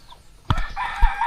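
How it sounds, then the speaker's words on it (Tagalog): Chickens clucking and a rooster crowing close by, a sharp burst of calls after a brief quiet moment, then a second short cluck. "Papakain din tayo ng manok"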